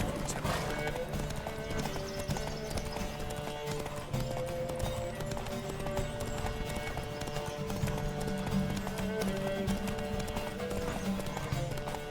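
Steady rapid clip-clop of several galloping horses, loud and continuous, over a busy layer of music and game sounds.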